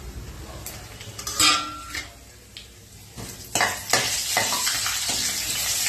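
Cumin seeds and a bay leaf sizzle in hot oil in a pan while being stirred, with loud scraping and clinking of a spoon against the metal over a steady close frying hiss, no talking.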